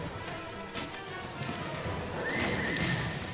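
A horse in the video game Monster Hunter World neighs, a short whinny rising over a busy backdrop of game sound and thudding hoof-like beats.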